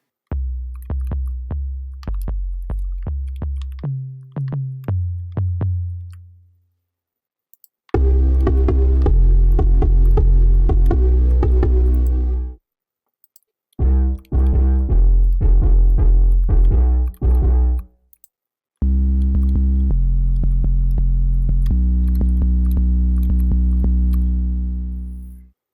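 Deep 808 bass samples from the Studio By Tha Loops VST play in separate bursts, booming low notes and sliding tones, some short and clipped, others long and droning, with silent gaps between them.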